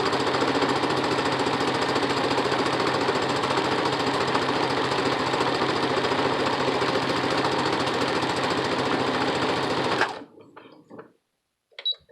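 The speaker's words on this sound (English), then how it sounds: "and then start stitching again" A sewing machine fitted with a pin tuck presser foot runs steadily for about ten seconds, a fast even mechanical chatter close up, then stops abruptly, leaving a few faint clicks and handling noises.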